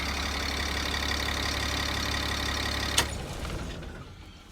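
An old bus engine idles with a steady low rumble and faint knock, then is switched off after about three seconds, a brief clunk followed by the sound dying away into quiet.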